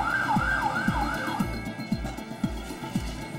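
An ambulance siren wails in a repeating rising-falling cycle about twice a second, loud and steady with a low engine rumble underneath, no voices.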